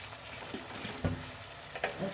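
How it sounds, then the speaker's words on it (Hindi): Potatoes frying in spices in a pan for an aloo mirch curry, with a low steady sizzle and a few soft stirring knocks and clatters, close and alone. "ये देखिए आलू मैंने तकरीबन 3 मिनट के लिए मैंने भून लिए हैं मसालों में।"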